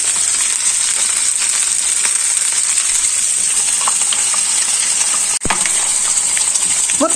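Chicken breast fries in a pan, a steady close sizzle and crackle with faint spatters, and one sharp clack partway through as it is handled.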